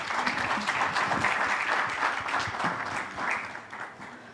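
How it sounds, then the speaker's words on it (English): Audience applause at a JA Africa Company of the Year 2023 student competition and trade fair, a dense, steady clapping that stays loud for the whole stretch with small swells and no voices over it. "Can you please give another big round of applause for Ghana?"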